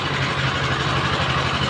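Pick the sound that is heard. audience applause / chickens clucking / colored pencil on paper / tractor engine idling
tractor engine idling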